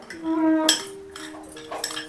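A spoon scrapes and clinks against a bowl as a thick ground paste for wood apple pachadi is tipped into whisked yogurt and stirred, close by, with a short voice near the start.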